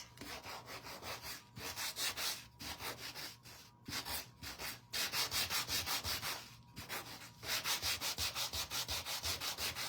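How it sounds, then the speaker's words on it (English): A wooden bluebird kit base being sanded by hand, with rhythmic back-and-forth scraping strokes in several bursts separated by brief pauses, close and clear with no talking. "so I'm gonna sand"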